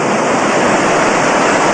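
Ocean waves wash continuously against the shoreline of a private beach at a Nicaraguan resort, a loud, dense, unbroken surf roar with no pauses.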